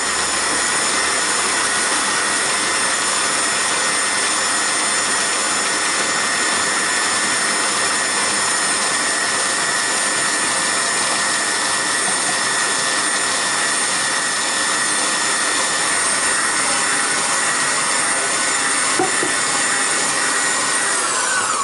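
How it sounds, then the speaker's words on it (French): An electric mixer beats meringue for marshmallow bears at full speed, a loud, continuous high-pitched whine with steady whirring that holds unbroken throughout. "je vais battre à pleine vitesse jusqu'à ce que le bol soit froid"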